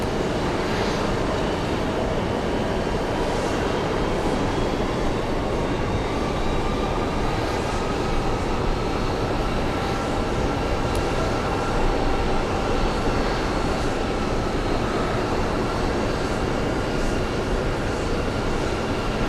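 A Lufthansa airliner lands at JFK airport, its jet engines giving off a constant, broad roar that stays steady and wide throughout.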